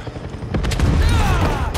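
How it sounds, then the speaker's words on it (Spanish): Lightning strikes a helicopter in Far Cry 6, a sharp crackling burst followed by rumbling booms and gunfire-like pops, loud and sustained over a steady low roar. "Le ha caído un rayo al helicóptero"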